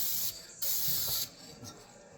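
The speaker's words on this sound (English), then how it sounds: "I'm going to spray right in the corner there, so I know where my spray" A spray gun paints the corner of a door in two or three bursts of loud, close hissing, each starting and stopping abruptly, with brief quieter gaps between passes.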